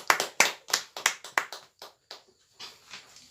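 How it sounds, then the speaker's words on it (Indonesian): A few pairs of hands clap for a short spell, in sharp and uneven claps that thin out and fade, close and fairly quiet with no talking. "Kita berikan aplaus."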